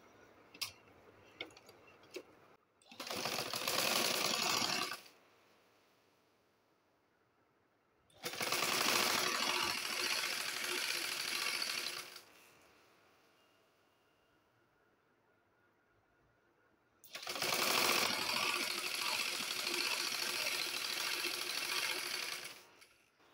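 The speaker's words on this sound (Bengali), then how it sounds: "এভাবে হাতা থেকে সেলাই করে নিব।" Sewing machine stitching the sleeve of an Aliya-cut kurti, heard in three loud continuous runs of fast rattling stitches separated by quiet pauses with a few small clicks.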